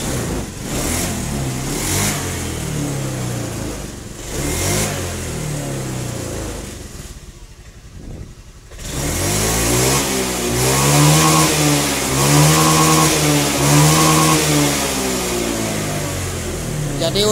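A Honda Beat PGM-FI injection scooter with a stumbling, sputtering fault is started and revved. The engine runs unevenly, dips briefly into near quiet, then catches again and climbs through repeated throttle blips, loud and close.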